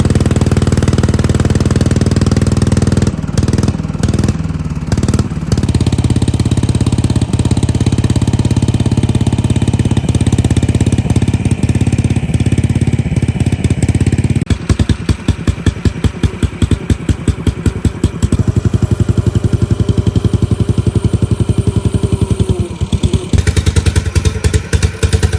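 Oldsmobile Cutlass G-body race car engine running loud and close, a steady heavy rumble that shifts midway into a rapid, choppy pulsing idle, with no voices.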